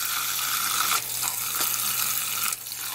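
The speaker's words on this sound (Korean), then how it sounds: "찬물에 이렇게 헹궈서 냉이가 차가워졌으면 이렇게 한 번만 헹구셔도 될 것 같아요." Cold tap water running steadily into a sink as boiled autumn shepherd's purse greens are rinsed: a close, continuous splashing rush with small shifts in flow as the greens are moved under the stream.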